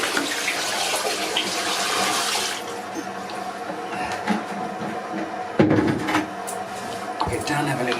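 A toilet being flushed again during a blockage repair, a loud rushing gush of water for the first few seconds that settles into a quieter trickle and refill, with a few knocks and clunks later on.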